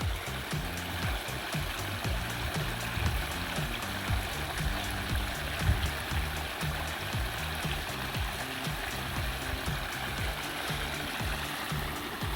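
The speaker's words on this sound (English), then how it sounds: "here's the beautiful pondless water feature" Water trickling and splashing over rocks in a small backyard pondless water feature planted with pink impatiens, a steady close babble of running water with no speech.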